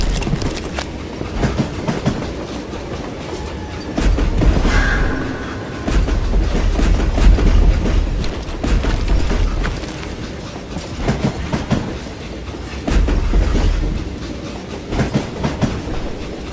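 A train riding along the rails in Call of Juarez Gunslinger, loud continuous rumbling with rhythmic clickety-clack of wheels over joints, swelling and easing in waves.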